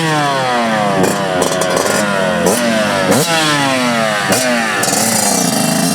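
A 2021 Yamaha YZ125 two-stroke motocross bike revs hard and close, its engine pitch sweeping up and down in repeated rising bursts with no talk over it.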